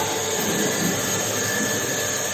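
A pump on an orificemeter and venturimeter test rig runs steadily after being switched on, a continuous broadband mechanical whir and hum that stays even in level throughout, with no talk over it.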